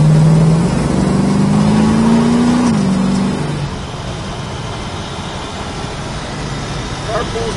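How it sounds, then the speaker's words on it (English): A 1971 Plymouth GTX is driven on the road. Its engine drones and climbs steadily, then drops away after a few seconds, leaving softer road and cabin noise. "Car pulls nice and straight, just the way it should."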